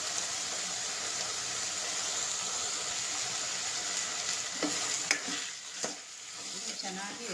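Salted potatoes fry in oil in a pan for a simple potato palya, making a soft, steady sizzle with a few spoon clinks and scrapes toward the end.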